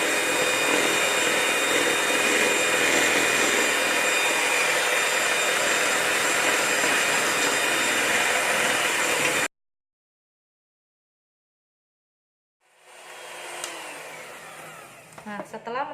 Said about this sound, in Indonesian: Kita kocok sampai menteganya lembut ya.